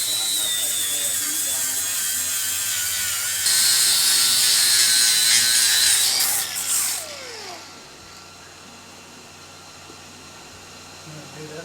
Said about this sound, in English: I'm going to go ahead and grind that weld out